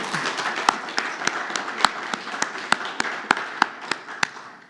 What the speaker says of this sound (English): let's just give a round of applause to our presenters